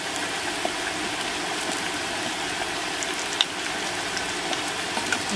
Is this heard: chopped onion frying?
yes